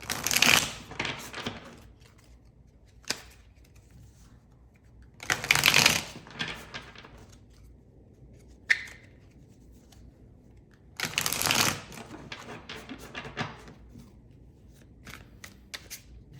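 A deck of tarot cards being shuffled by hand: three separate bursts of quick, close riffling and flicking, with quiet pauses in between.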